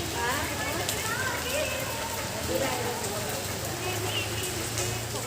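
Rain falls in a constant hiss beneath nearby voices that speak intermittently.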